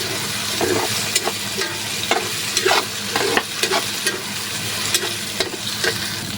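Canned sardines stirred in a frying pan with eggs, a steady sizzle under repeated scraping spatula strokes and clinks against the pan, close and fairly loud, with no talking.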